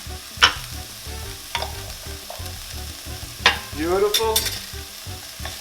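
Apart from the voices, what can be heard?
onion and minced garlic sizzling and frying in a pan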